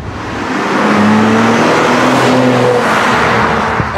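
Mercedes C-Class Coupé engine pulling hard through tight curves in Spain, a loud continuous drone with rising and falling tones as the car accelerates and shifts, close and steady for the whole stretch with no talk.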